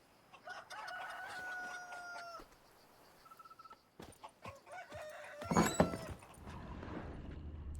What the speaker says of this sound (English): Those chickens messing with the door?